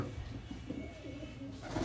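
Pigeons being hand-coloured coo softly and continuously in a low murmur, faint and close, with a steady background hum.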